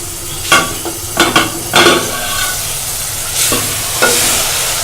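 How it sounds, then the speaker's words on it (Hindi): Spices and slit green chillies frying in a pan for saag, a steady close sizzle punctuated by several scraping stirs of a spoon against the pan. "मसाले की भुनाई हो चुकी है"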